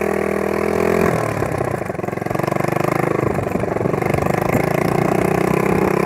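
An enduro motorcycle's engine fires after a kick start and settles into a loud, steady idle close by, with a brief dip in pitch early on and a rapid, even putter throughout.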